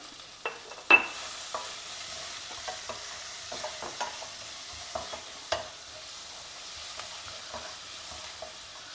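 Onions frying in a pan on a South Indian stovetop, with a soft steady sizzle beneath scattered close scrapes and clicks of a spatula stirring, one sharper knock near the start, no voices.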